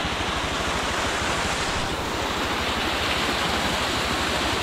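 A roadside waterfall in Palawan pours in a steady, dense rush of falling water, close and continuous with no pauses and no voices.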